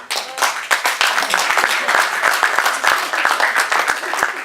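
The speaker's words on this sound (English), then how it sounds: "I hope you all would greet him with a big round of applause" Audience applause greeting a speaker on stage: a lively room of clapping with distinct close hand claps standing out over the continuous patter, fairly loud and steady throughout.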